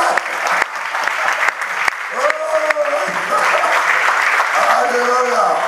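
A church congregation breaks into loud, sustained applause that swells and continues throughout, with cheering voices rising within the clapping.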